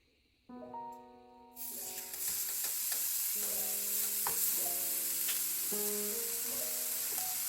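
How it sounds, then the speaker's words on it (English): Meat searing in a hot pan, with a loud, steady broadband sizzle that bursts in and continues unbroken, close to the pan, while soft melodic background music plays underneath. "It wants me to sear it. Okay, let's get this sucker seared."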